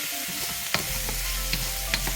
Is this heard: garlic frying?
yes